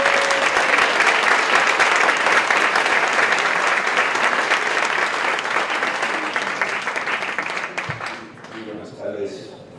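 Loud audience applause welcoming a speaker at an honorary doctorate ceremony, dense sustained clapping that fades toward the end as a voice begins talking.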